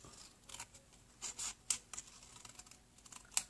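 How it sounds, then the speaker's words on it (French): Quiet, close snips and crisp scraping of scissors cutting through card, a series of short irregular cuts with no speech. "on prend nos ciseaux, puis on vient faire"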